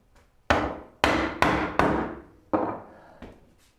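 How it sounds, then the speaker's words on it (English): Chisel work cutting a sliding dovetail groove in wood gives six sharp, well-spaced woody knocks, each ringing out briefly before the next, with a couple of faint taps at the end and no talking. "chisel, saw, chisel, saw, chisel, until we've got a nice clean dovetail groove to put that sliding dovetail in"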